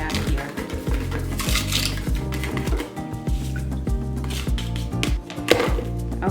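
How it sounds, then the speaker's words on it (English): A wooden stick stirs lye solution inside a plastic container, giving steady rhythmic knocking and scraping strokes with a clattering edge, close and loud, with no talking. "I'm gonna mix the lye off the bottom of this container here and get it all stirred up"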